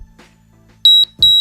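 Two loud, sharp electronic beeps from a Tabata HIIT workout interval timer sound in quick succession, each a clean high tone lasting about a fifth of a second, following a quieter stretch with faint background noise.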